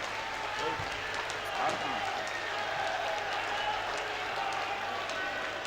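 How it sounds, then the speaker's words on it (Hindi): A large audience at a national council meeting claps together to honour winning chief ministers, making a dense, steady roar of applause that fills the hall with no pauses. "एक बार आप अपने स्थान पर खड़े होकर तालियों की गड़गड़ाहट से हमारे सारे विजयी मुख्यमंत्रियों का हार्दिक अभिनंदन और स्वागत करें"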